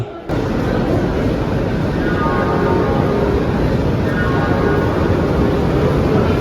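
Busy Howrah railway station, with a dense, loud, continuous roar of crowd and train noise filling the whole stretch after a short quieter opening.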